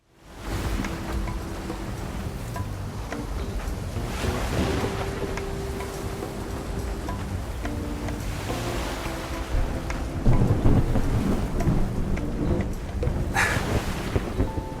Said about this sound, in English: I can't calm stormy waves right now.